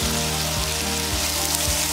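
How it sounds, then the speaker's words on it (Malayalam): Two medium onions, finely chopped, sauté with whole spices in a pan for a paneer masala gravy. A close, continuous sizzle runs under a low steady hum, with faint rhythmic stirring and no talking. "ഇതിലേക്ക് ഇപ്പം ഞാൻ 2 മീഡിയം സൈസ് ഉള്ളി ഇതുപോലെ ചെറുതായിട്ട് അരിഞ്ഞ് വെച്ചിരിക്കുന്നത് അതും കൂടെ ഇടുക."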